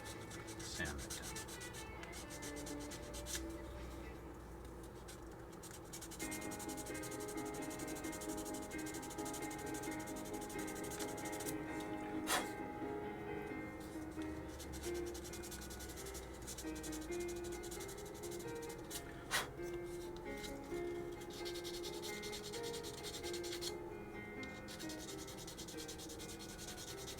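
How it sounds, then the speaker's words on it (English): Sandpaper rubbing back and forth on a small plastic part from a 1/25 scale AMT 2021 Ford Bronco model kit, a steady close scratchy rasp that runs continuously with a few brief pauses. "sand it down."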